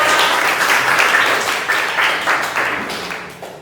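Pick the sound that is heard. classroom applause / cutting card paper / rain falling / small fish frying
classroom applause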